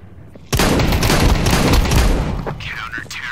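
Shotguns fire in a Counter-Strike 2 match: after a quiet moment, a loud, close burst of rapid overlapping gunshots erupts and rattles on for about two seconds, then thins out into scattered shots.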